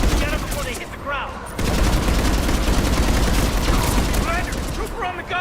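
A mounted gun fires in sustained bursts during a Mass Effect 3 battle, loud rapid reports layered over a rumbling combat din, with shouted voices in the mix.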